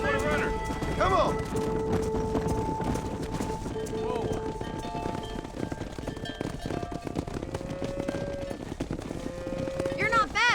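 Cattle herd mooing with hoofbeats in the Red Dead Redemption video game, steady low calls over constant hoof and ranch noise, with voices talking and music throughout.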